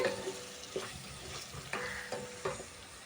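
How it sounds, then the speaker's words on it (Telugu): Ginger garlic paste frying in a pan, a soft continuous sizzle broken by several sharp stirring scrapes in a loose rhythm, close and fairly quiet, no talking. "ఈ అల్లం వెల్లుల్లి పేస్టు పచ్చివాసన పోయేంత వరకు అయితే ఫ్రై చేసుకోవాలి"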